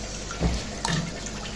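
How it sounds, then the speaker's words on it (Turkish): Water from a fish jar holding longfin blue-eyed fry is tipped into an aquarium, making two short splashing gushes of liquid, close and moderate, separated by quiet trickling. "Küpü de şöyle döndürerek boşaltınca daha iyi oluyor."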